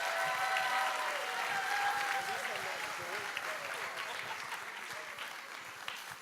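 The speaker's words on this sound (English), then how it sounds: "give them all a nice round of applause" An audience at a live charity dance show claps loudly in sustained, dense applause that stays full for several seconds before gradually thinning and fading a little toward the end.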